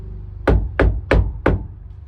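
A hammer taps a wedged wooden piece in a van build, four sharp, evenly spaced knocks close up, each a hard wooden thwack with a quick decay and nothing else around it.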